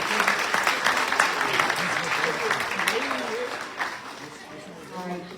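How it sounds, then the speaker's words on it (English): Applause for graduates at a college spring commencement ceremony, a broad sustained wash of clapping from a large audience that tapers off near the end, with a voice briefly heard beneath. "So let's applaud them."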